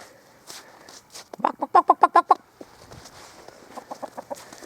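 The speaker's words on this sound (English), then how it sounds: "Messing with chickens today, boys." Several chickens clucking outdoors in a rural yard, a quick burst of loud, close clucks in a tight rhythm, with quieter clucking before and after.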